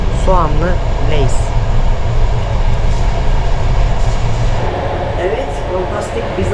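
Steady loud rumble and rolling hum of a passenger train ride heard from inside a business class carriage, with rail noise throughout and a person talking over it.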